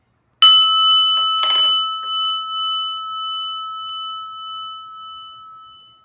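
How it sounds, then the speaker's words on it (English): Prayer bell struck once, a bright clear ring with a few light follow-up taps, then a long pure tone that slowly fades in a quiet room. "listen to the prayer bell."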